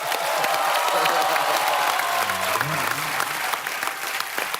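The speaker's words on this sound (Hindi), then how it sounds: "तालियों की गड़गड़ाहट।" Loud, sustained applause from a crowd, dense clapping that fills the whole stretch with faint cheering mixed in.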